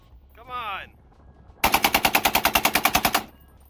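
A 7.62x51mm automatic rifle in the game Critical Ops fires a loud, rapid burst of about fifteen evenly spaced shots, preceded by a short rising electronic tone.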